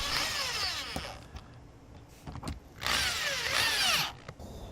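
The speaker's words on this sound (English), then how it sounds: "Put our screws in. Now we're just going to secure it to the RV roof." A power drill drives screws into an RV roof to fasten solar equipment, giving two long whirring bursts close by with brief pauses and small clicks between them, and no talk.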